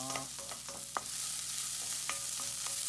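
Butterbur sprouts are stir-fried in a pan for fuki miso, a soft background sizzle broken by several sharp spatula scrapes and taps as they are stirred.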